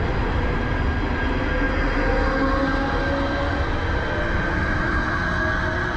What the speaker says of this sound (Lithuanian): Išvažiavo traukinys į Vilnių